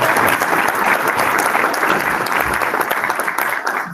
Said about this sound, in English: give a round of applause again for everyone who volunteered their time